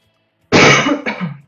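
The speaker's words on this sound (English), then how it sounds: "Yes, I still have the coughing." A single person coughing, two harsh close bursts in quick succession after a moment of silence, loud and dry with no talk around them.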